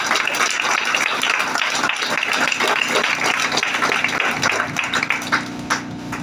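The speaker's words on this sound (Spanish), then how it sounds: "Dale un aplauso al Señor por su palabra" Congregation at a Bible study service breaks into sustained applause, a dense, even roar of many hands clapping for several seconds before thinning out at the end.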